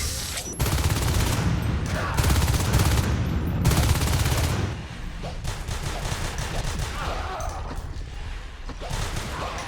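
Shotgun fire in the Natural Selection 2 video game, heavy repeated blasts and rapid gunfire in a chaotic fight, loud at first and then thinning into scattered shots and clatter.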